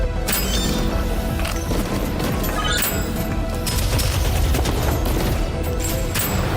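Grenade blasts and heavy gunfire in the shooter game Abyssus, a loud, dense barrage of bangs and crashes that continues throughout with no letup.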